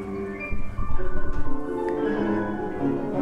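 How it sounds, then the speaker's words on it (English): Machine-learning generated classical piano music, produced from a model trained on piano recordings, plays as a dense, slightly smeared run of sustained notes and chords at moderate volume with no voices. "a large database of piano music, classical piano music, and we can get it to generate sound"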